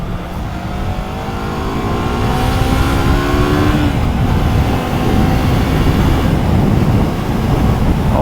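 A 2023 VOGE 350 AC motorcycle rides along a country road, its engine droning loudly and continuously with a rising pitch as it accelerates, heavy wind rushing over it, and no voices.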